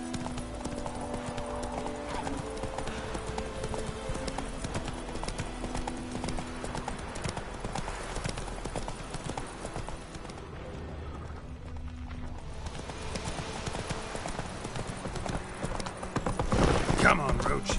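Rhythmic hoofbeats of Roach, Geralt's horse in The Witcher 3, galloping steadily over a game soundscape with background music, a rider's voice speaking over it and a louder burst near the end.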